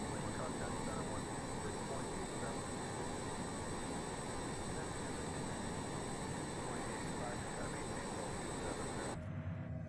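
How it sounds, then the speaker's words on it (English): A Honda Jet's engine drones in flight in Microsoft Flight Simulator on a Caribbean–Florida route, a steady, harsh, continuous roar with tonal whine that cuts off abruptly near the end. "that engine sound is pretty horrible on the ears"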